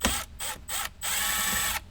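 A screwdriver turns out Phillips head screws from a speaker pod in a Ford Bronco, making close, loud ratcheting clicks in three quick bursts separated by short pauses, the last one longer.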